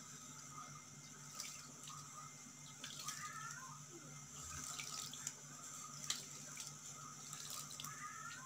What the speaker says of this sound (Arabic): غادي نضيف الماء